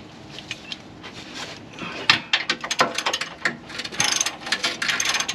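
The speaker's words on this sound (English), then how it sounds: "Use a long wrench, long extension with a socket on the end." A socket wrench on a long extension ratcheting off an anti-roll bar bush bolt on a Land Rover's front sway bar, rapid clicking pawl bursts in quick uneven strokes, close and fairly loud.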